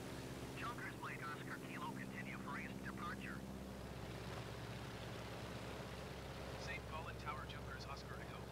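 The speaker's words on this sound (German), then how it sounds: "Es ist einfach schön, dieses Flugzeug fliegen zu sehen." A Junkers Ju 52 flying over Lake Constance in Microsoft Flight Simulator 2020 makes a quiet, even engine drone, with someone talking over it in two stretches.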